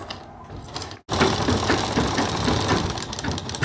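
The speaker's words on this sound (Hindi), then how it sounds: "अब हम इस पर सिलाई लगाते हैं" Household sewing machine stitching after a loose needle rod repair, with a brief pause followed by fast, loud, continuous mechanical whirring and rhythmic clatter, close by.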